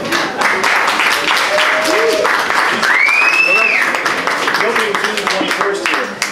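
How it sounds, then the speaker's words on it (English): Applause and cheering at a live music venue for a performer, clapping mixed with crowd chatter and a few whistles rising over the noise. "Let's clap him."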